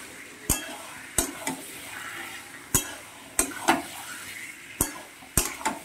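Chicken and potatoes stir-fried in a pan, with a spatula knocking and scraping the metal in irregular sharp strokes over a soft, low frying sizzle.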